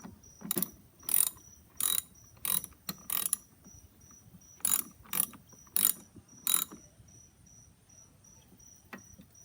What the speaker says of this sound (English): our socket wrench to tighten